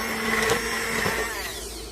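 An immersion emulsion blender whirs steadily as it purées baked potato soup, with a close, continuous motor drone and slight pitch wobble as the blade churns through the thick mixture.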